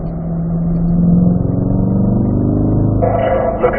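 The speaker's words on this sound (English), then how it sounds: "Let's start rolling into the throttle." A Corvette engine accelerates loudly on a race track at a performance driving school, its close, rising growl building steadily before a sharper shift in tone near the end.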